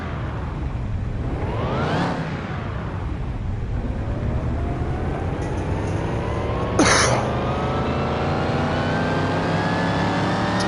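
A car engine on a dyno during a power test revs repeatedly, its pitch sweeping up and down in strong rising and falling pulls. The sound is loud and continuous, with a brief sharp squeal near the end.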